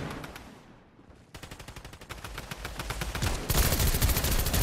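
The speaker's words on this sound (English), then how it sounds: "We're on the machine pistol here." Machine pistol fire in a gun-game video game, rapid rattling bursts of fast automatic shots, quieter at first, briefly dropping out, then growing louder and denser toward the end.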